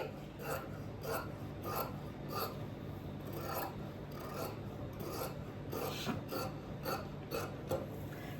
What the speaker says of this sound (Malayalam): ബാക്കി ആ ഒരു ഷേപ്പിൽ അങ്ങോട്ട് കട്ട് ചെയ്യുവാണ് കേട്ടോ